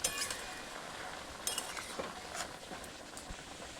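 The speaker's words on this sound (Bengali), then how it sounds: "এই দেখুন চাপা তুলে দেখে নিচ্ছি সিদ্ধ হলো কিনা।" A metal lid lifts off a pot of jackfruit cooking outdoors in the wind, giving a few light clinks and taps, faint and close, with no talk.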